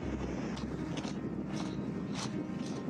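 Wind buffets a microphone on an exposed shingle spit at Keyhaven Marshes, a steady low rumble with gusty swells throughout and no voice.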